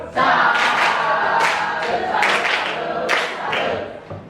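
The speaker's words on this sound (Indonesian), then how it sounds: "Tepuk salutnya mana?" A classroom group gives a rhythmic salute clap in unison, several bursts of claps with cheering voices mixed in, loud and close in the room.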